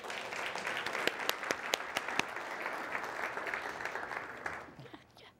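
An audience bursts into sustained applause as a speaker is welcomed onto a stage at an entrepreneurs' presentation, a dense, steady wash of many clapping hands with a few sharper claps standing out, tapering off near the end.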